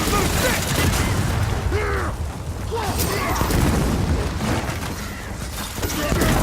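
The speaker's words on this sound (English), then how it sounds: "That rumbling noise. Oh, it's drop shot Scions." In Gears of War 4 Horde mode, Scions fire drop shot weapons, producing a sustained low rumble mixed with bursts and whooshing game effects throughout.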